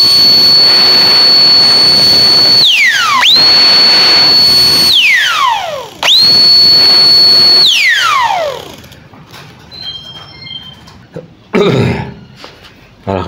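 A cordless turbo fan blower whirs up to a loud, steady high whine twice, each run winding down in a falling pitch, followed by quieter handling knocks.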